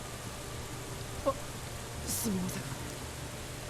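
Steady rain falls in a scene from the video game Steins;Gate 0, a continuous soft wash that runs through the whole moment while a voice briefly speaks over it.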